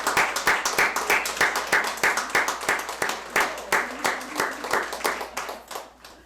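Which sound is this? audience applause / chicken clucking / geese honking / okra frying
audience applause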